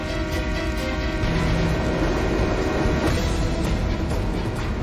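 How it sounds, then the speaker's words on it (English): A freight train rumbles past a burning building steadily with a dense mechanical roar and faint rhythmic clatter, continuous and fairly loud from start to finish. "a freight train passes dangerously close to the blaze"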